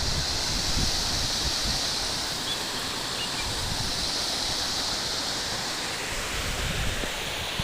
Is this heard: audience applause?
no